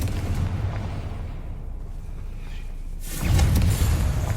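Confringo spell blast in Hogwarts Legacy on PS5, a low rumbling roar of fire and impact that swells into a loud deep boom near the end, heard alone without talk.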